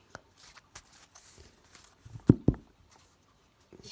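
Light Seers Tarot cards are shuffled again by hand, soft scattered flicks building to two crisp slaps of the deck, close and fairly quiet, with no voices.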